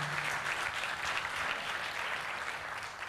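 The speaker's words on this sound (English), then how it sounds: "Big round of applause to Marco" Audience applause at a tech conference, a dense, steady wash of clapping from a large crowd, loud and continuous without speech.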